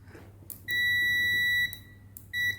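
A multimeter checking a thermal fuse from a heating fan gives two clear electronic tones, one long beep of about a second, then a shorter one after a pause, over faint background hum.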